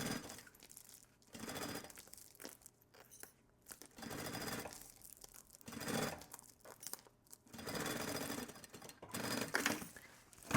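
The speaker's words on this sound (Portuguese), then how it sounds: "E aí aqui eu vou costurando na lateral." Sewing machine stitching the side seam of a fabric thermal bottle holder with a lining, running in several bursts of a few seconds each, separated by brief pauses, with no talk.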